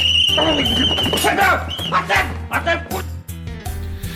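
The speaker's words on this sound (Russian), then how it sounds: "Собачий лай." A dog barks and yips in several short bursts over a backing music track, with overlapping voices and an uneven, lively rhythm.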